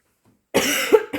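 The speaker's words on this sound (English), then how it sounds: "Sometimes I've got a cough like that is just like 1 or 2 times and then it's gone." A short burst of two or three dry coughs from a person, close and fairly loud after a moment of silence, with a brief pause before a final cough.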